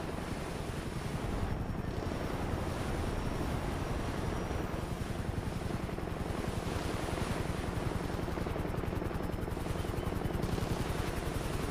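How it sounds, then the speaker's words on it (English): Helicopters circling in the Grand Theft Auto video game produce a continuous rhythmic rotor chop over a dense, steady engine roar. The sound is moderately loud and there is no talking. "It's got three helicopters on him."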